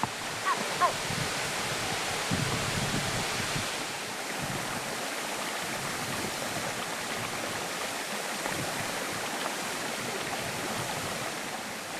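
Broadband rushing water from a waterfall over slippery sharp stones on a mountain route in Bolivia, a steady wash that holds at one level throughout, with faint wind noise.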